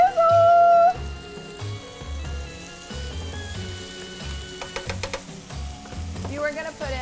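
Sauce sizzles and crackles in a hot pan, a steady frying hiss beneath a loud tone at the start and some background music.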